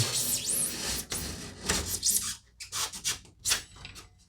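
Knife blade scoring polyiso foam board with a fiberglass facing: close, irregular scraping and rasping strokes, longer at first, then shorter bursts separated by brief pauses, with no talking.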